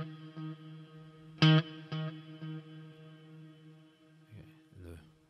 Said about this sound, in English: So here's with the delay as well. I'll just play a single note.